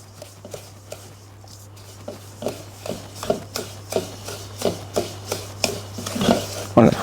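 Creamed butter being worked by hand into a stiff paste with other ingredients, with repeated rhythmic scraping and squishing strokes that grow louder and closer toward the end, over a low steady hum.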